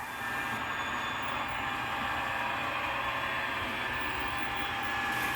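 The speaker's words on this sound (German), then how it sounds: "der Güterzug, wie er sich langsam in den Bahnhof Baden-Baden bewegt" A Märklin H0 model freight train rolls slowly into a station on a large layout, a continuous thin whirring hum of the motor and wheels held at a steady, moderate level without voices.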